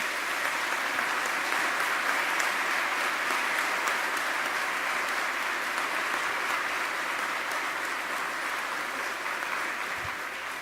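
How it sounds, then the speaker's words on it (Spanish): A morning university conference audience in Lima applauds visiting presidents, steady sustained clapping filling the hall, even and unbroken for about ten seconds. "para los que pedimos un aplauso muy especial esta mañana"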